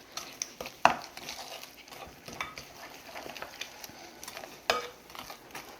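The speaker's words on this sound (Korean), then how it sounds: "이것을 숟가락으로 그냥 쓱쓱 저어서 반죽을 해주세요." A spoon stirs glutinous rice flour mixed with sugar, salt and water into a wet dough in a microwave-safe heatproof bowl, giving soft repeated scraping and clinking strokes at close range with no voices.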